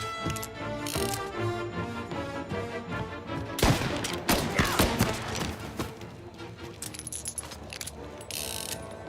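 Gunfire in the video game Mafia Definitive Edition: a dense burst of sharp shots and crackling impacts, several clustered close together midway, over a busy backdrop of game music and effects.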